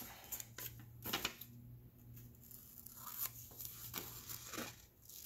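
Scissors snipping close along the edges of a craft project, giving a few short, crisp cutting and crinkling sounds in irregular bursts, near and quiet, with soft handling noise between cuts.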